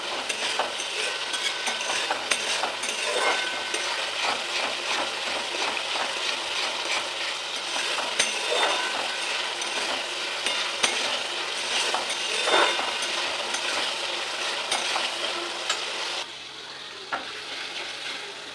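Prawns and cubed pieces sizzle in oil while being stirred in a kadai for a Bengali prawn malai curry, a steady loud frying hiss with occasional scraping clinks of the spoon and no talking.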